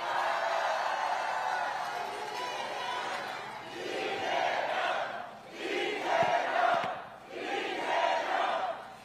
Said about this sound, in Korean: 더욱더 큰 응원의 박수를 부탁드립니다.